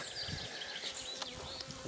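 Honey bees hum and buzz faintly around an opened beehive in an apiary, a soft continuous drone with occasional brief nearby buzzes passing.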